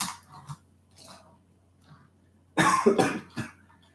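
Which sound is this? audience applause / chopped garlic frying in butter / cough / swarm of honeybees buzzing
cough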